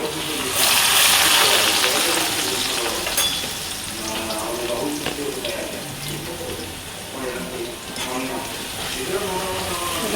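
Thin-sliced potatoes fry in hot oil in a wok, giving a loud, continuous sizzling hiss with bursts of bubbling crackle that stay steady from start to finish.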